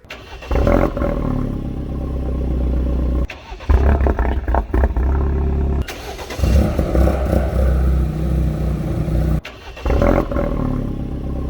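A loud GTS engine turns over and roars to life, revving in repeated bursts with brief pauses between, deep and rumbling up close.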